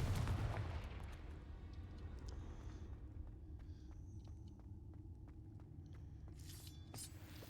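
A Confringo blasting spell goes off in Hogwarts Legacy, opening with a loud booming burst that decays into a long low rumble, with a few faint crackles and sparkling flickers trailing afterward.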